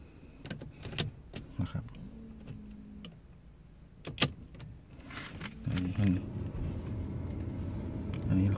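A 2011 Porsche Cayenne top-spec diesel turbo is started from inside the cabin: a few clicks and taps, then the engine catches and settles into a steady, close idle rumble while someone talks.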